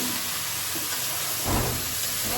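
Cauliflower, aubergine and potato are added to sizzling spices in a pan, a steady close hiss that swells briefly as they go in, with no talk.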